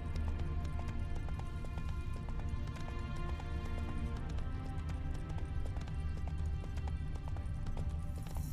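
Hooves of Roach, Geralt's horse in The Witcher 3: Wild Hunt, clip-clop in a steady, quick rhythm at moderate volume, continuing without pause under a low layer of ambient game sound.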